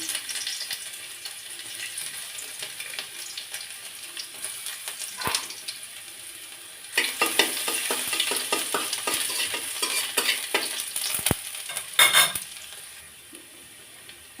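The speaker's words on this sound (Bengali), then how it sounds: "রসুন আর জিরাটা যখন এইভাবে ভেজে নেবেন এরকম লালচে হয়ে আসবে" Cumin seeds and garlic fry in hot oil, a continuous sizzle that swells louder partway through, with occasional sharp scrapes and clinks of a utensil against the pan.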